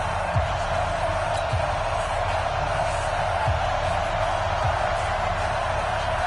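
A stadium crowd roars at an NFL game in a video game, Kansas City Chiefs versus Cleveland Browns, a steady dense crowd wash with faint thumps, the crowd noise continuous throughout.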